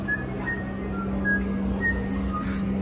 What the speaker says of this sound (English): The famous whistling oyster